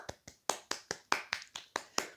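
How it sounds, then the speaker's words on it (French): Ten sharp hand claps in a steady, fairly quick rhythm, close and distinct with no talking, like a small group or single person applauding on cue. "On applaudit"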